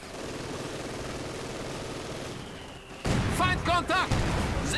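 Rapid bursts of gunfire in the video game Company of Heroes 2 crackle in the background, growing louder toward the end, with a synthetic, game-like quality.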